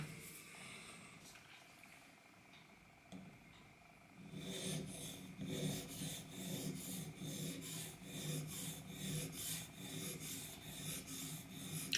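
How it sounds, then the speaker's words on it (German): A knife blade is drawn across a whetstone by hand in steady, rhythmic rasping strokes that begin after a quiet stretch and repeat evenly. "beim händischen Schleifen."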